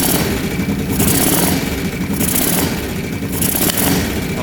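After a valve adjustment, a cheap ATV engine revs up and down in repeated bursts, loud and close, with a rough, clattery edge and possible backfire pops between throttle blips, and no voices.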